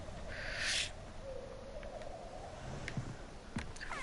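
A bird call from the prehistoric video game Far Cry Primal, a soft hooting owl-like cry drawn out at mid-distance, followed by a few faint chirps over a quiet ambient wilderness bed with no talking.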